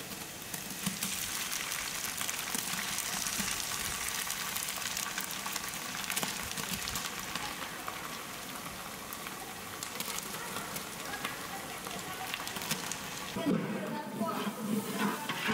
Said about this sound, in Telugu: ఇవన్నీ వేసుకుని పచ్చివాసన పోయేవారికి బాగా వేయించుకోవాలి.